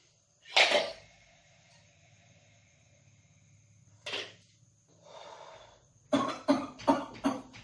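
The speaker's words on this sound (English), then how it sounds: "we should cough 2 or 3 bouts" A person coughs nearby in deliberate lung-clearing bouts after spirometer breathing exercises: one strong cough, a softer one, a breathy exhale, then a rapid burst of four coughs.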